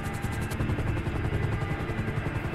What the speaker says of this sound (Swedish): Ja, det är nog lite helikopter i luften här.